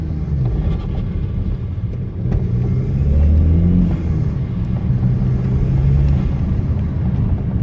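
A BMW 118d E82 diesel, recently repaired after cutting out under load, pulls in fourth gear at about 3000 rpm. Its low engine drone is steady and close, with a slight surge in the middle, and no one speaks.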